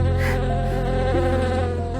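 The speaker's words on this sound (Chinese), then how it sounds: "这只能蛰死人的大黄蜂，看样子是这群蜜蜂的领头" A hornet and wild bees around a wild honeycomb buzz in a continuous, loud, close drone that holds steady throughout, with no voices.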